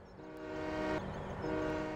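A train horn sounds in Farming Simulator 17, a sustained chord-like blast with a short break near the middle before it resumes, loud over the rumble of the rail engine.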